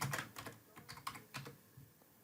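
Typing on a computer keyboard: a short run of close, crisp key clicks in an uneven rhythm, about ten keystrokes over two seconds, with no voices.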